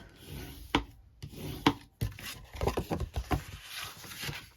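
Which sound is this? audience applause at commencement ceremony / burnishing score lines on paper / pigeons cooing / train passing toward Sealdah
burnishing score lines on paper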